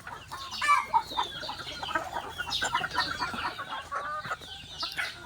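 Chickens cluck and call repeatedly at close range, a busy overlapping chatter of short notes and squawks with a brief crow-like call mixed in.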